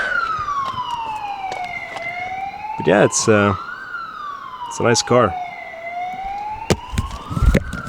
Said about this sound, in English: Thank you for the siren.